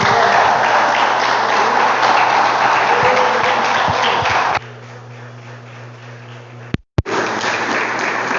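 A church congregation claps loudly and continuously in worship for about four and a half seconds, then the applause drops away to a quieter hum before a brief cut and a return of dense sound.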